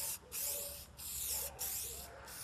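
Plasti Dip aerosol spray coating the roof of an Opel Coupe Turbo: loud, close hissing bursts broken by three brief pauses, with no talking.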